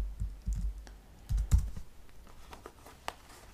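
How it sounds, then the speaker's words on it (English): Typing on a computer keyboard: irregular clusters of clicking keystrokes with short pauses between bursts, close and fairly clear, with no speech. "So I'm going to type color set in here"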